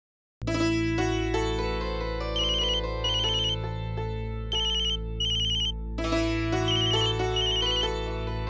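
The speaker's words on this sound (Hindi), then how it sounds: "अक्षरा, तूने फोन किया था?" A phone ringtone plays a bright, looping electronic melody with chiming high notes, loud and steady for about eight seconds with no talking.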